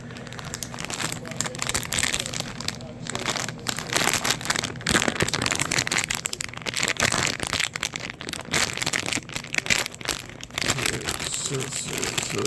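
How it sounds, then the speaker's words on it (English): Crinkly plastic packaging on new virtual pinball table parts rustles and tears continuously up close, with crackling and crumpling throughout. "Just trying to open some packaging here."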